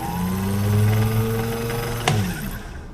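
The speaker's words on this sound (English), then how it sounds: "The motor doesn't sound too bad." A Singer 15-91 sewing machine motor runs steadily with a low hum and whine close up, plus a single brief click near the end.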